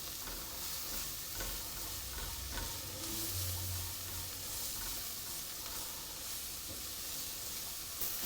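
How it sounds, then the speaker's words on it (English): Sliced leeks fry steadily in a pan over medium heat, giving a continuous soft sizzle with faint stirring, alone and without voices. "I'm simply going to let those fry until they soften a little bit and they take on some colour"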